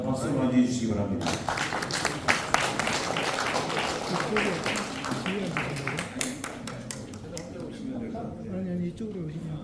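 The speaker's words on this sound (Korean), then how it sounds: "박수로 맞이해 주시기 바랍니다." An audience at a forum opening ceremony in Korea claps to welcome a former prime minister as he enters, a dense patter of hands over a steady crowd murmur that thins out toward the end.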